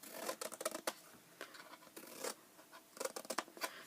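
Scissors snip notches into a paper card box lid, a quick run of crisp, close cutting strokes and scrapes in irregular bursts, quiet and with no talking.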